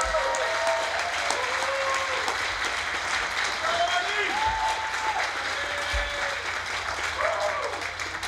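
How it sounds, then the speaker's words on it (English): An audience at the judges' session of a world invitational barbecue contest applauds, a dense, sustained roar of clapping that fills the whole stretch, with voices and a few whistles or cheers threaded through it. "Give him a big round of applause."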